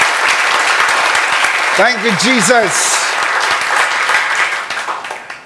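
A church congregation gives a loud clap offering during worship, with dense, sustained applause filling the room while voices call out and sing over it. The clapping fades slightly toward the end.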